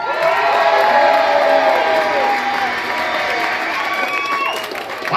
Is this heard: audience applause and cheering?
yes